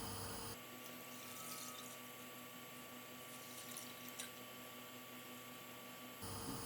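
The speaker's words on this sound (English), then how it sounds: "this is 2-liter milk that I'm going to gently pour into the pot while it's getting hot" Full cream milk pours steadily into a pot on the heat, a continuous soft splashing wash with a faint hum beneath, running alone without talk for about six seconds.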